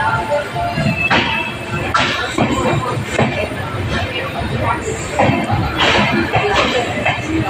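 Passenger train running at Nagercoil Junction, a steady rumble with wheel clatter and metallic squeals, with voices and crowd babble throughout.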